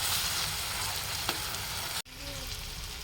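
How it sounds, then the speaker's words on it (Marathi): Ground masala paste for a home-style chicken curry cooks in oil, giving a continuous close sizzle with a soft stir, then a sudden brief break before the frying resumes. "आता आपलं चांगलं वाटण शिजत आलेलं आहे"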